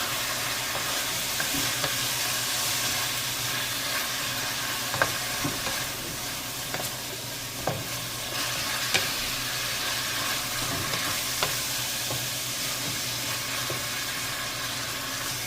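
Beef being stirred and fried in a pan for vegetable soup, a loud continuous hissing sizzle with occasional scraping and clicking of a utensil, close up and steady with no speech.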